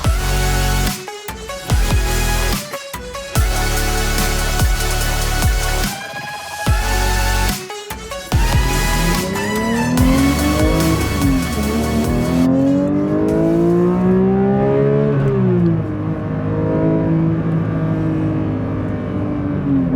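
A Porsche 911 GT3 with a manual gearbox and a rear-mounted, naturally aspirated engine, heard close up as it starts, blips and revs sharply several times, then pulls away with rising and falling gear-change sweeps that fade into the distance.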